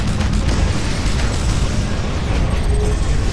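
A steady, dense roar of explosions fills the scene as a target is destroyed in the strategy game Universe at War: Earth Assault, continuous and loud without a break.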